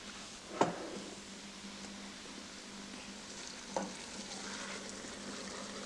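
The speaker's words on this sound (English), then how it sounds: "So leave that frying for about 5 minutes." Soft, steady sizzling of vegetables frying in a pan, with two sharp clinks of a utensil against the pan.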